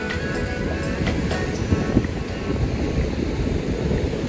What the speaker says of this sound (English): What do we think of this beach, Mel?